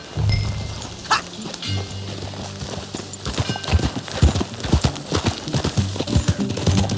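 Horse hooves clip-clop across the ground in Red Dead Redemption 2, a close, irregular run of hard thuds that picks up pace and density toward the end, with faint game ambience behind.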